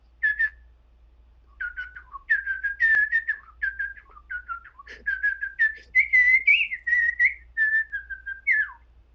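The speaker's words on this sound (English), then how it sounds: "I am a very good whistler" A person whistles a lively tune alone, with quick, bright notes in short phrases and brief pauses, close and clear.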